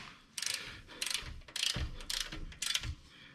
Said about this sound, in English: We're going to go ahead and torque these down.